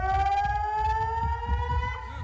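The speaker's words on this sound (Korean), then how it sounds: "공습 사이렌 직후 큰 폭발음과 함께 흰 연기가 솟아오릅니다" An air raid siren from news footage of a rocket strike in the Golan Heights wails loudly and steadily, its pitch rising slowly, over low rhythmic thumping and rumble, with no one speaking.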